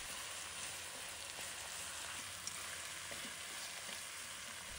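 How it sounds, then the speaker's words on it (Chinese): Meat pan-frying on low heat in onion-flavoured oil gives a soft, even, continuous sizzle like light rain, faint and unbroken, with no voices over it. "先保持小火，将肉煎至一面定型。"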